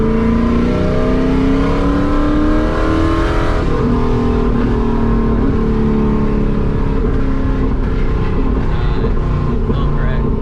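Modified 1997 Camaro Z28 engine revving while driving, loud and continuous with rising and falling pitch and a few faint crackles, with voices talking over it inside the car.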